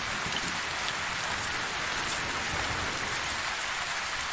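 Heavy, steady rain in the survival video game Survisland during a storm, a dense, loud, unbroken hiss of drops with no voices over it.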